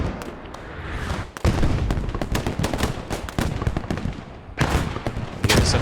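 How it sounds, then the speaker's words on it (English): In a multiplayer shooter match, an auto cannon fires in rapid repeated bursts of sharp cracks and booms, with a brief pause partway through and then more firing. "kind of auto cannon firing over here"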